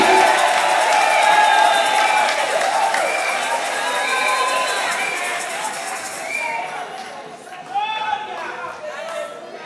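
A church congregation cheers and acclaims God loudly with whoops and excited crowd voices, which fade to a lively murmur with scattered shouts near the end.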